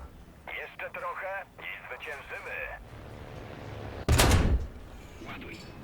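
A tank cannon in War Thunder fires once with a sharp, loud boom after some radio-like chatter and a low engine rumble.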